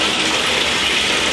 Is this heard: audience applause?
no